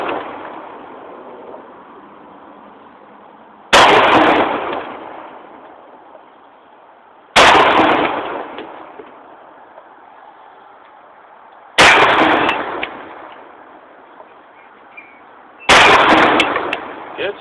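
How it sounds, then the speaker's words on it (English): Outdoor gunfire while out shooting: four loud, booming shots spaced about four seconds apart, each with a long rolling echo over steady background wind or hiss. "Good shoot, Tex."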